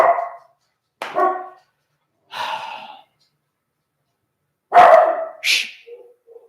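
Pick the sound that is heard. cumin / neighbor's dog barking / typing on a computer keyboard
neighbor's dog barking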